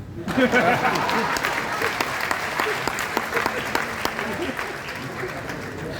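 An audience at a ministerial handover ceremony breaks into loud applause, dense clapping sustained for several seconds and tapering slightly toward the end, with some faint crowd murmur mixed in.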